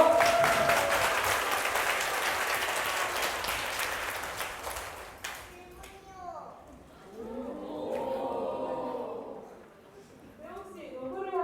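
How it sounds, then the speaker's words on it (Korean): Loud crowd applause for an actor at a live concert-style show, dense for several seconds and then fading out, followed by a person talking. "우리 홍노희 배우 큰 박수 부탁드릴게요."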